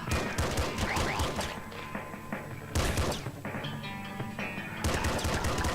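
Dense bursts of revolver gunfire from the top-down shooter Nuclear Throne, fired in rapid clusters with game effects and impacts layered over a steady music bed; loud and close, with brief lulls between volleys.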